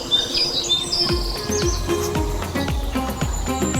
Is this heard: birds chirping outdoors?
yes